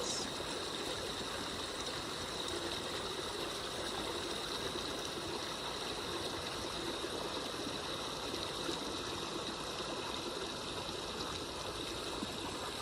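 A forest brook flows in a steady, continuous babble and trickle of water, close and even in loudness throughout, with no voices over it.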